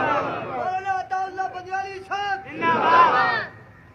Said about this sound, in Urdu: اتنے تے نعرے دی کوئی ضرورت نہیں